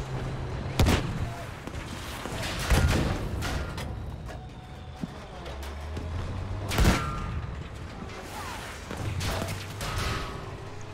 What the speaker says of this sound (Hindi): अब सामने से फायरिंग हो रही है